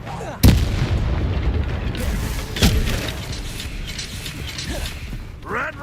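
Incendio fire spell cast in the Hogwarts Legacy video game, sharp booming blasts and crackling impacts over a busy background of combat noise.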